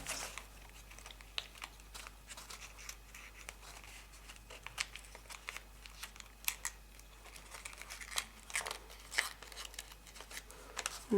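Origami paper folded along a crease that runs all the way around a Jack in a Box model, giving faint, close crinkles and soft creasing clicks in irregular bursts against a quiet background.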